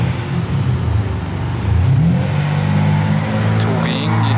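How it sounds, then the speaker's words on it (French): A Ferrari V12 engine rumbles loudly outdoors in the snow at Saint-Moritz, with a low, steady growl that swells into a rev partway through. The engine is close and dominant, and a voice is faintly audible beneath it. "Oh, le V12 on l'entend."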